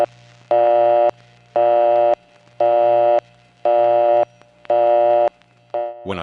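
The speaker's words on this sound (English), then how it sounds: "the test line thinks that the collect or return failed and returns a regular busy signal" A regular telephone busy signal from a New York test line pulses five times in even on-off beeps, loud and clean over a faint line hum, ending with a short cut-off burst.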